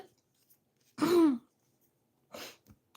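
A single throat clearing, close and fairly loud, followed by a shorter, softer vocal noise a moment later in an otherwise quiet room.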